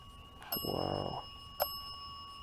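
A small bell rings once, close and clear with a short shimmering tail, then gives a brief second tap in a quiet cemetery at night.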